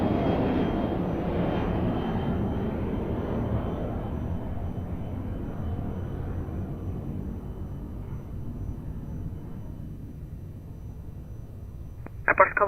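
A passing airplane at Lisbon Airport roars loudly at first, its broad engine rumble slowly fading into the distance, with a short burst of radio chatter near the end.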